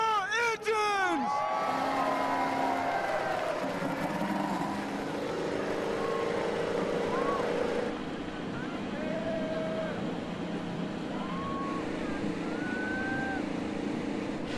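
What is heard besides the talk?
IndyCar race car engines starting at Long Beach Grand Prix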